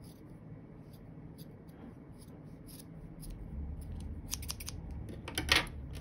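Scissors snip through macrame cord for a rainbow baby mobile, a few quiet crisp cuts with a louder sharp snip near the end, heard close over a faint room hum.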